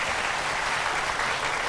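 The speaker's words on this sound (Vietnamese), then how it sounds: "Vỗ tay lớn hơn nữa đi nào." A studio audience claps steadily and energetically throughout a Vietnamese entertainment show, forming a dense, even wash of applause with no pauses.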